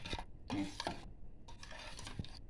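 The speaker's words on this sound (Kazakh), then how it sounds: "Енді осыған сүтімізді араластырамыз." Milk being stirred into porridge in a pot, heard as two separate bursts of scraping and clinking from a spoon against the pot, fairly close and quiet, with no talking.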